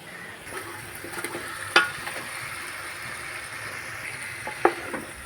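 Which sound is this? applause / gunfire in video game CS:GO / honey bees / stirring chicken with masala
stirring chicken with masala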